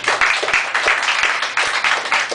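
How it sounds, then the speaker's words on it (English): Classroom applause for a new game champion, a burst of clapping from a group of students that fills the room loudly throughout. "Miss Valeria, round of applause for the new champion."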